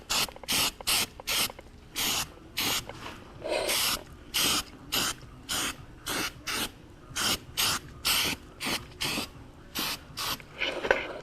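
Weld-through primer hisses from an aerosol spray can onto a car body lip in short, regular bursts of about half a second, repeated steadily and close by with no talking.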